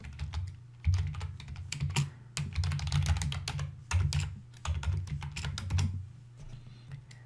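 Rapid, steady typing on a computer keyboard while entering commands at a command prompt, with close, crisp key clicks in an uneven rhythm over a low background hum.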